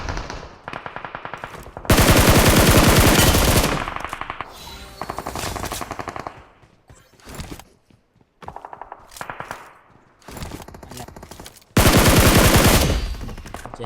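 Automatic gunfire in a battle royale video game, loud rapid bursts of machine-gun fire with short pauses between volleys and scattered single shots, up close and unbroken by talk.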